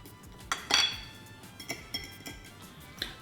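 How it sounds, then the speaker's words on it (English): Metal spoon clinking against a bowl while stirring cilantro into guacamole: a few scattered sharp clinks and taps with soft scraping between, close and moderately loud, no talking. "We'll just stir it a little bit."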